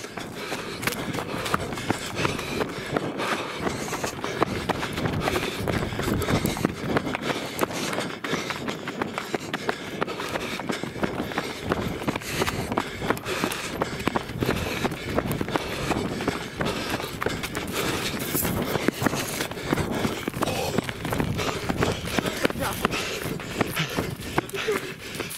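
Wild donkeys run along a riverbank, giving a continuous scuffle of hoofbeats and shuffling on the ground, steady and fairly close, with people talking over it.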